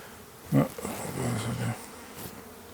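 Honeybees buzz steadily around an open hive during a queen inspection, a close, dense drone that swells briefly with a louder pass near the start and continues without talk.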